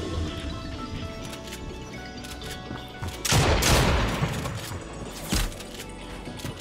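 Gunfire in the video game Fortnite, heard as a rapid burst of shots over steady game noise, followed by a second shorter crack a moment later.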